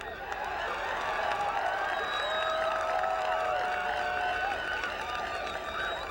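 A crowd murmurs and calls out at a 1997 girls soccer valley championship match, a steady distant wash of voices and cheering from the stands.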